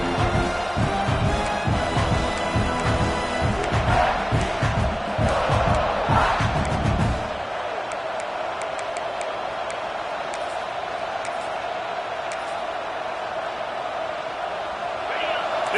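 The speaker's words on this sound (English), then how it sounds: "This crowd trying to make life miserable for this offense" Stadium crowd roar in College Football 26 during a South Carolina vs Tennessee game, a loud dense wall of cheering and shouting for about seven seconds that then drops off abruptly to a low, distant murmur.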